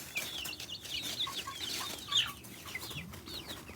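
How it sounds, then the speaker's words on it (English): Backyard chickens clucking and squawking busily at feeding time while eating organic greens, a steady overlapping chorus of short calls close by with no talking. "Gotta feed your chickens healthy, natural food."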